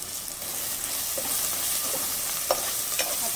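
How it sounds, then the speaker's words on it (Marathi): Ground spices such as red chilli powder, turmeric and coriander powder fry in hot oil, giving a continuous close sizzle with occasional scraping stirs, and no talk. "आता अगदी अर्धा मिनिट भर मी तेलामध्ये मसाले परतून घेते"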